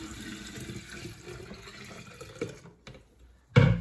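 Cold water runs and splashes steadily into a jar for a few seconds, pauses briefly, then a louder gush of pouring water lands at the end, during kombucha preparation.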